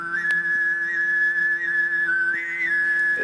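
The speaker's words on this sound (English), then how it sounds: "there's a kind of a whistle that develops on top of the singing" Tuvan throat singing by a single performer: a steady drone voice held low while a sharp, whistle-like overtone sings a sustained melody high above it, loud and alone with no talk.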